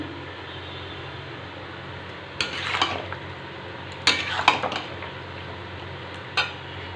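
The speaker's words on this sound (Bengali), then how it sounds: "এই যে অল্প অল্প করে মটন সেদ্ধর জলটা দিচ্ছি আর কষাচ্ছি" Mutton is stirred and browned in a pan while its boiling stock is added a little at a time, giving a steady low sizzle broken by several sharp scraping and clattering bursts of the spoon against the pan.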